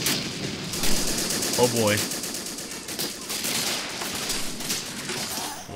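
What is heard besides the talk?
machine gun fire in the video game Men of War Assault Squad 2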